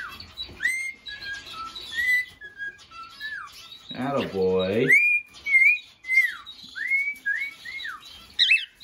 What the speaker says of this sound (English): he's still whistling, huh?